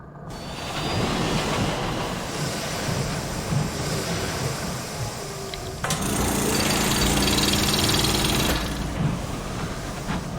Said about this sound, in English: Okay, I have a drill.